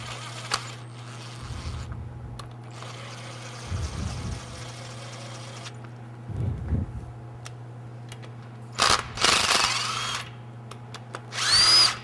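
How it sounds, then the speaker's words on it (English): A 3/16 Allen wrench driving ARP fasteners into an Oldsmobile V8 engine block makes short bursts of ratcheting, grinding turns, repeated several times at close range over a steady hum, with no talking. "You just use a 3/16 Allen wrench"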